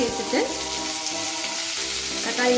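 Chopped tomatoes added to sautéed onions sizzle and crackle steadily in a hot pan for tomato chutney, a close, continuous frying hiss with light stirring and no voices.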